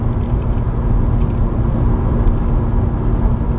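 Mazda RX8 rotary engine drones steadily from inside the car while driving with short shifts, a loud continuous low rumble with road noise and no clear rev peaks.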